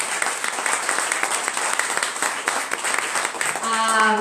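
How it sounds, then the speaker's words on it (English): A live audience at a show gives a big round of applause, steady dense clapping throughout, with a voice starting to speak over it at the end. "So let's give a big round of applause"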